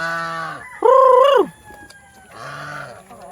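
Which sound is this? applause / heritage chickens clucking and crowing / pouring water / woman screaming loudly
heritage chickens clucking and crowing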